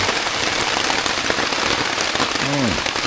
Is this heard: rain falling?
yes